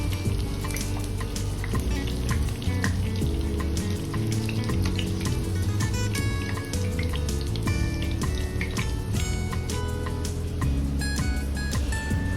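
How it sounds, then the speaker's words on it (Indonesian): Tofu frying in hot oil, a steady dense sizzle and crackle running continuously at moderate level, with no talking over it. "ini aku lanjut untuk goreng tahunya"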